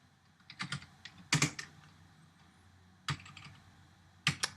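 Keys clack on a computer keyboard while code is typed, coming in short uneven bursts of several strokes with brief pauses between them. The typing sounds close and moderately quiet, with no voices over it.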